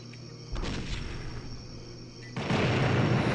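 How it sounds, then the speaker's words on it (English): Explosions boom in the video game Blood Refreshed Supply, with a heavy blast erupting and a second louder burst of rumbling fire following a couple of seconds later over a low hum. "the way the explosions in this game feel, the guns, like everything just is top tier"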